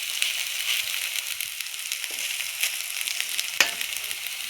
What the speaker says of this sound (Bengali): বেগুন ভাজা হয়ে গেছে, সুন্দর হয়েছে।